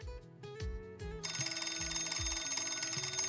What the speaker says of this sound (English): As Dante pointed to his desk, his phone rang.